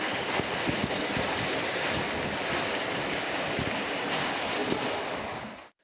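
Heavy storm rain and rushing floodwater in the Guarujá and São Vicente area of Brazil make a dense, steady roar that continues unbroken and close, then cuts off abruptly at the end, with no voices.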